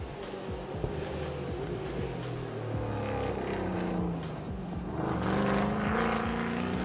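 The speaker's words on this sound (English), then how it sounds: "Listen to that rumble." A steady, throaty TA2 race car engine rumble roars continuously during qualifying at Sepang International Circuit, swelling louder toward the end as the car passes close by.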